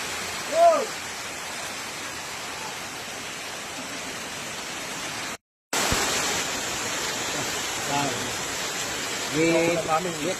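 Rain falls outdoors near rice fields, a steady soft hiss broken by a brief gap, with a few faint voices and bird-like chirps in the background.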